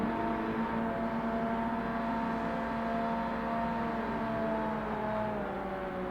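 Car engines in the Forza Motorsport video game, including a Mazda MX-5, hold a steady droning tone with a few slowly gliding overtones, fairly quiet and continuous with no talking over it.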